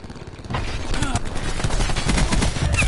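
Rapid automatic gunfire from the video game Call of Duty: Black Ops 4, a dense continuous burst of shots that runs loud through the whole stretch.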